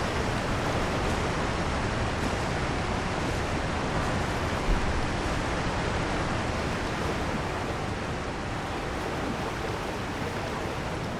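A waterfall in the video game Elden Ring roars continuously, a dense, even wash of falling water close by that never lets up, with no talking over it.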